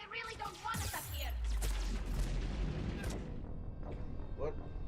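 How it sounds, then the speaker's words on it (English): Geth Prime weapons fire in Mass Effect 3 as a loud burst of gunfire and booming impacts, followed by a lingering rumble and scattered shots, with some voice in the mix. "What was shooting me from the left? There must be a bunch of Geth Prime up there."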